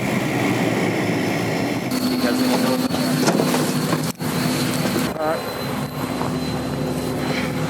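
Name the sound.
airplane landing on ice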